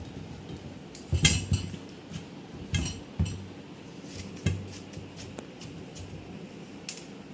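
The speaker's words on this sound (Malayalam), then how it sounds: "അങ്ങനെ വത്തക്ക വെട്ടിക്കൊണ്ടിരിക്കുകയാണ്." A knife cutting through a watermelon in a home kitchen, giving several separate clinking chops and thuds against a board or dish with soft handling noise in between and no talk.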